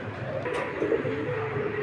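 A 2021 female racing pigeon gives a short, soft coo, a brief low warble heard close up against faint background noise.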